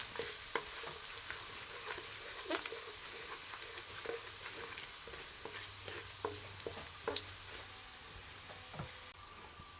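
Roughly chopped garlic, three cloves, sizzling steadily in a hot pan while cooking butter chicken, with a constant fry hiss and scattered small pops and crackles throughout, moderately close with no talking.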